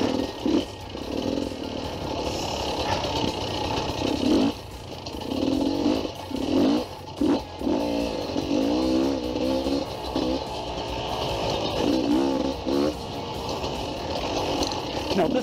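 A dirt bike engine runs on a single-track forest trail near Calabogie, Ontario. The buzzing drone rises and falls as the throttle changes, and a rider talks over the engine for much of the time.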